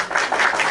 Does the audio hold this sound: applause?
yes